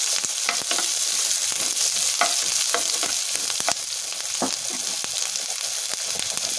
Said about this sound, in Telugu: తర్వాత ఉల్లిపాయ ముక్కలు వేసుకొని బాగా ఫ్రై చేసుకోవాలి.